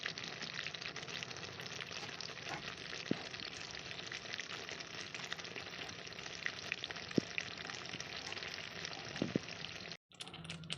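Turmeric and chilli spice paste frying in oil for rohu fish korma, a steady close sizzle with occasional light stirring clicks running throughout before a brief cut near the end.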